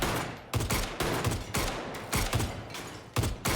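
Rapid bursts of gunfire from a television drama about deadly games pop and crackle in quick repeated volleys, several distinct salvos spread across a few seconds at moderate volume.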